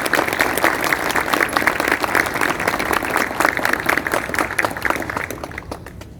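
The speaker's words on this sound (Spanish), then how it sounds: "Así que pido para ella un gran aplauso." Sustained applause from an audience at a book presentation, dense clapping throughout at steady strength before thinning out at the very end.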